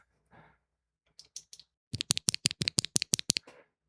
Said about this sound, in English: Today we're looking at the Keygeek PA Linear Switch.